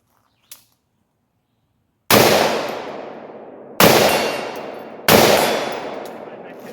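A Smith & Wesson M&P 15 AR-15 rifle fires three loud, sharp shots at 75 yards, spaced a second or two apart, each with a long ringing decay, after a faint click.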